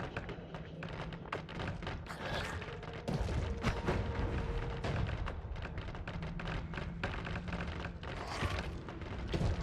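Continuous rumbling blasts and thuds pile up over one another in the video game Noita, a dense, loud barrage of explosions with crackling debris throughout.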